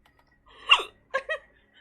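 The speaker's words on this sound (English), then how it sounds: "Alcohol hiccups are the fucking worst" Alcohol-induced hiccups from a person, a few sharp vocal gulps: one stronger hiccup followed by a quick pair, close and otherwise quiet.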